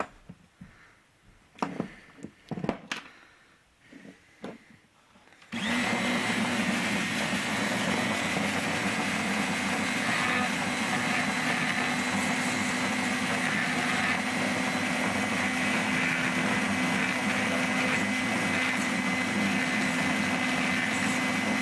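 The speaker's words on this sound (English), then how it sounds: "I'm going to take my handy dandy little Dremel tool, and I'm just going to hit these edges quick." A small Dremel rotary tool grinds down the edges of a paintball gun being converted to airsoft, starting after a few faint handling clicks and then whirring loudly and steadily for about sixteen seconds.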